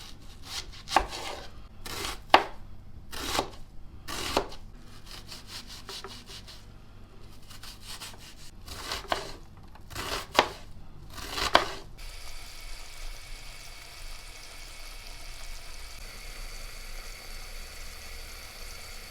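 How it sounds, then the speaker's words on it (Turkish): Onions are chopped with a knife on a cutting board in a home kitchen, a run of crisp, close, rhythmic chops in quick bursts that stop partway, leaving only quiet room tone. "ben içerisine koyacağım soğanımı doğrayacağım"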